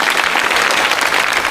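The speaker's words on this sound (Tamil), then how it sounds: "ஓ, கைத்தட்டுங்க." Dense applause from an audience at a Tamil quiz-style stage show, steady and full throughout, loud and close with no break.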